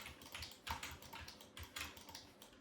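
Fingers typing on a computer keyboard, a close, steady run of crisp plastic clacks with occasional heavier keystrokes, no one speaking.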